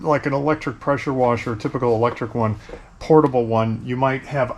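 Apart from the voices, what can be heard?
No everyday noise stands out behind the speech.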